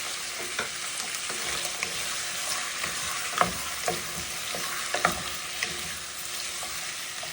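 Onions fry in a hot pan with a steady, close crackling sizzle, broken by a few soft stirring clicks and scrapes, with no talking.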